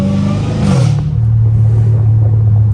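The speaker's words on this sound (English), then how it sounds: "when you downshift in such low gears and you hear the exhaust" A catless Dodge Challenger Hellcat Redeye exhaust roars loudly up close on a low-gear downshift, its engine pitch dropping and then holding a deep, steady low rumble.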